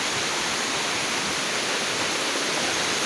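A waterfall swollen after heavy rain roars in a loud, continuous broadband rush that fills the scene with no letup and no voices.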